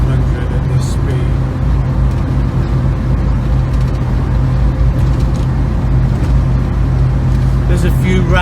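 A 1967 Volvo 122S Amazon Wagon's engine drones steadily at moderate revs while driving, a constant low hum with road noise and small rattles, with someone talking over it.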